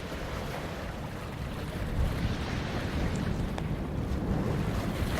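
Steady ocean surf washes in a continuous, even roar of breaking water, with a faint wind-like hiss and no talking.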